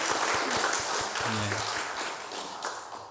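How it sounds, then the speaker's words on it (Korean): A church congregation claps loudly for the choir, steady dense applause for a few seconds with a low hum underneath, easing slightly toward the end. "함께 크게 박수하겠습니다."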